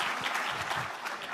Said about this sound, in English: Why don't you all give yourself a round of applause?